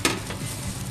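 Onion, garlic and ginger hit hot oil in a pan, giving a sudden sizzle that crackles on steadily over about a second, close and fairly loud.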